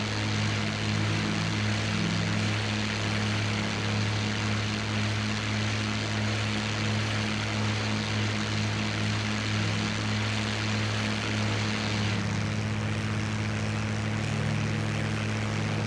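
P-51 Mustang propeller fighter engine in the IL-2 Great Battles flight sim, a steady close droning roar with a constant low hum held throughout, no speech over it.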